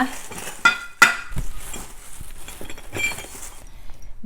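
Metal parts of a meat grinder clink and clatter as a sausage-stuffing attachment is fitted on in a home kitchen: a few sharp clicks, then scraping and knocking, close and fairly loud.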